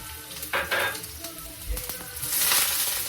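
Onions sizzle in a hot pan on a stovetop, a broad frying hiss that swells as they go in, with a few utensil scrapes and clinks near the start.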